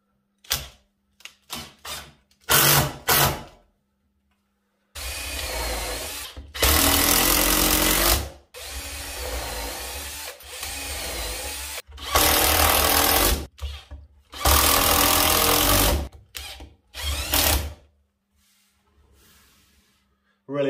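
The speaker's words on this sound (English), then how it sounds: "then just drive the appropriate size screw in" A power drill drives screws into reclaimed timber for a spiral side table, in repeated loud bursts of a few seconds each with short pauses and lighter clicks and handling noises between.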